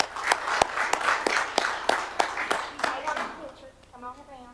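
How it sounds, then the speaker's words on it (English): A modest round of applause at a public meeting, with scattered hand claps under ongoing talk before it fades and a voice continues. "Let's please give them a round of applause."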